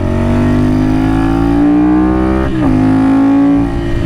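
A custom Ducati motorcycle engine revs with a loud, steady droning tone that slowly climbs in pitch, briefly drops mid-way, then rises again, close and alone.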